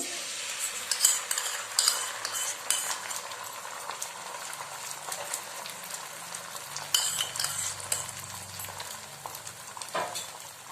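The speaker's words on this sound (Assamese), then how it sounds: "এয়া পেনখনত তেল দিছো, গৰম হৈছে। এয়া কণী দিছো।" An egg frying in hot oil in a pan gives a steady soft sizzle through the clip, with occasional light clinks and scrapes of a utensil, close by and with no talking.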